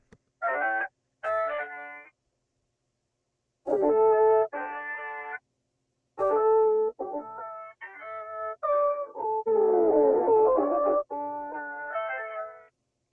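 Rhode Island-free synth texture one shot from the Bloom kit by MW, played as a series of bright, sustained harmonic chords in separate bursts with gaps of silence between, the later hits swelling into a denser, shimmering cluster.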